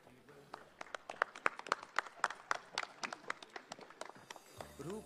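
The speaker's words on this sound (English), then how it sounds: "Can we have a big round of applause, ladies and gentlemen" A live audience claps at the 30th Kolkata International Film Festival opening as an actress felicitates a film star, a steady patter of applause filling the hall with sharp individual claps standing out above it.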